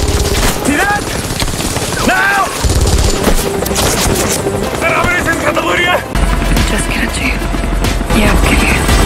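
Combat helicopter attack by Pakistani forces, with dense gunfire bursts and booming impacts over a continuous rotor roar, loud and chaotic, with voices shouting under the din.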